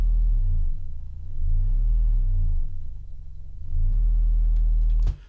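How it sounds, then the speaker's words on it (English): Sine wave oscillator on a Bastl Kastle modular synth, a pure low tone that sweeps and warbles in slow repeating swoops, loud and alone, ending with a brief click. "This is the sine wave oscillator."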